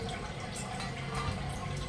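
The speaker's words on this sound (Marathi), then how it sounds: "आता काय करायचं आपल्याला याच्यात पाणी टाकून घ्यायचे" Water trickles and splashes onto a bowl of freshly ground wheat, a quiet, continuous pour with faint dripping and no voices.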